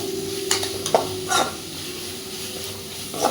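A spoon scrapes and stirs through carrots and beans frying in a pan, giving several sharp clinks over a soft continuous sizzle.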